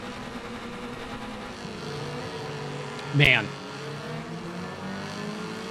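A Mazda Miata in the racing game Wreckfest gives a steady engine drone with shifting rising tones, briefly cut by a short loud burst, while someone speaks over it.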